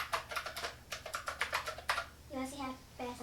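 Fast typing on a YCCTEAM Luom NG300 mechanical keyboard with raised keys, a quick run of close, crisp clacks, followed by someone speaking over the end.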